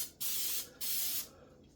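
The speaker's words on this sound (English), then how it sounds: "I'm just using some spray, and with it being a silicone mould" Cooking spray hisses onto a silicone baking mould in two steady bursts, each lasting about half a second, close and clear with a short pause between them.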